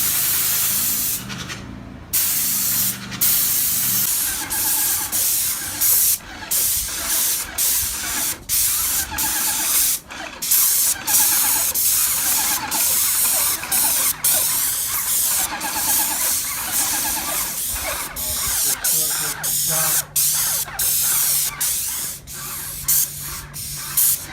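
Sealer sprayed onto a concrete overlay with the perimeter masked off, a close, loud, continuous hissing spray that runs nearly nonstop with only a few brief pauses and no talking.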